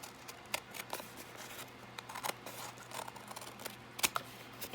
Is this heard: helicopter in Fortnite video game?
no